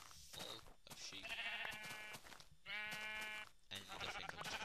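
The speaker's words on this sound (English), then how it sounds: "my world is normally full of sheep." Sheep in the video game Minecraft bleating in several separate wavering calls, a few seconds apart, fairly close and clear with no talking over them.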